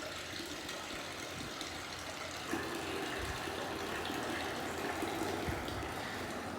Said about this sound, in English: We got water pouring into the cistern right now.